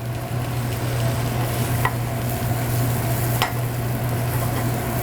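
Vegetables sautéing in a hot pan at a café griddle, giving a steady, loud sizzle throughout with a constant low hum and a couple of brief scraping stirs, no talking.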